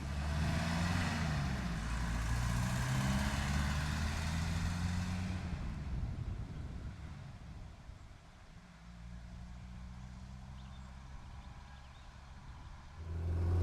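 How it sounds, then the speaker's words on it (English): A 1983 Mercedes W123 240d with a manual gearbox and diesel engine drives along, a low steady rumble with road noise that eases and dips partway before swelling again near the end. "So now we're going to take the same engine for a drive in the new shell."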